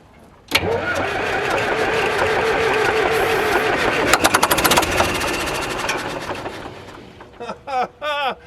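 Vintage Caterpillar D7 dozer engine being cranked on batteries and a jump pack after ten years idle, a loud continuous churning crank that surges and sputters without catching, then stops with brief bursts near the end.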